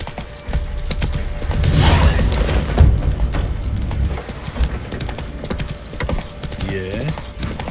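Roach the horse galloping in The Witcher 3: Wild Hunt, a steady run of hoofbeats in the game world amid some scattered thuds and ambient noise.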